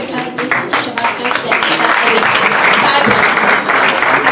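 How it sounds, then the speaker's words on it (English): An academic audience breaks into applause for an African institute of affairs, beginning with scattered claps and swelling into steady, full clapping with some voices mixed in. "shall we give another applause to African Institute of"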